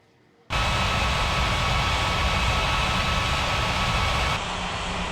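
An airplane starting its takeoff roll on a runway: a sudden steady roar of engine noise that stays loud and broadband for several seconds, then eases slightly, with no voices.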